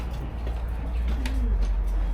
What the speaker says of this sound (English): See a bird.